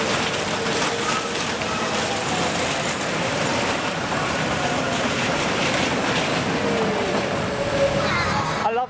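A ride train on the Scorpion Express roller coaster at Chessington World of Adventures rolls steadily along its track with continuous rumbling and clattering wheels, loud and close throughout.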